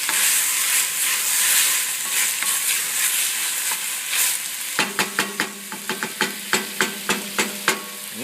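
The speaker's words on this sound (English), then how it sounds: "Give that a good stir." Quinoa stew being stirred in a pot over medium-low heat, first a continuous simmering sizzle, then a quick run of sharp, evenly spaced spoon clacks and scrapes against the pot, close and with no voices.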